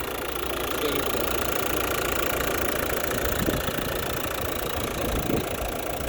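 A car engine idles with a steady, even rumble close by, running smoothly without any voices.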